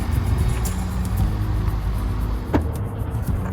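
A Ford car's engine idling after being remote-started by phone through Ford Pass Connect, a steady low rumble with one brief sharper noise partway through, heard close up and alone.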